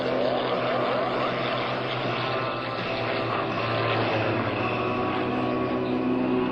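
Propeller aerobatic planes, an Extra 300 and a Sukhoi SU-29, fly over an air force base open house with a steady, loud engine drone that holds throughout with no pauses.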